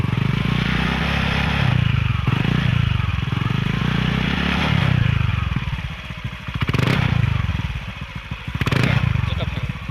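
A modified Honda Beat scooter fitted with a VND exhaust revs in repeated short bursts, its engine loud and near with a throaty rasp, dropping back to idle between blips, while people speak over it.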